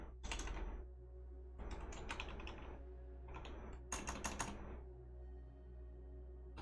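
Someone types on a computer keyboard while writing code: quiet, quick bursts of keystrokes in four clusters, separated by short pauses.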